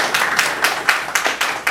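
Brief applause from an audience at a talk on investing in Ghana, with a handful of claps spaced at a quick, loose rhythm, close and fairly loud.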